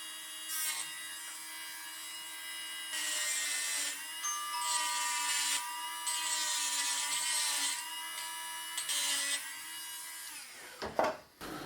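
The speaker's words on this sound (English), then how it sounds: "So let's deburr the internal edge of this part, or chamfer it. It's hard to do a real deburr with the die grinder." A die grinder chamfering the internal edge of a metal part, a steady high whine that holds with slight pitch shifts, close and loud, then briefly cutting off near the end.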